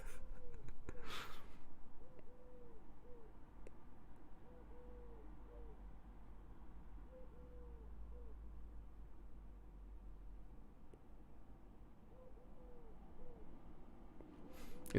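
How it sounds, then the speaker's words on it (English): An owl outside a window gives repeated soft hoots in short groups across the stretch, faint and distant over a low steady hiss, with brief louder rustles at the start and end. "It's a goddamn owl outside my window."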